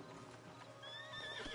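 A horse in Red Dead Redemption 2 whinnies with a rising, strained call near the end, over a steady bed of hoof clatter and game ambience.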